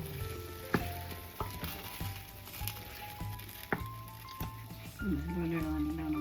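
Chicken curry being stirred in a sizzling pan, with steady frying crackle and scattered sharp clinks of a spoon against the vessel at close range, and a rising tone near the end.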